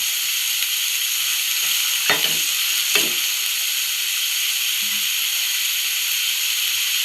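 Onions and chilli sautéing in hot oil in a pan for egg fried rice, a steady close sizzle with two brief stirring scrapes early on, no voices.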